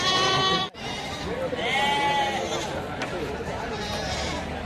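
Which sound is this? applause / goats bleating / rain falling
goats bleating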